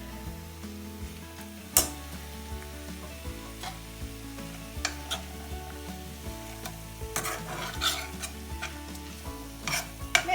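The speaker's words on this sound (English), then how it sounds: "now we are going to add our mince" Minced meat for moussaka frying in a pan while a utensil stirs it, a steady close sizzle broken by sharp scrapes and clacks against the pan, with background music underneath.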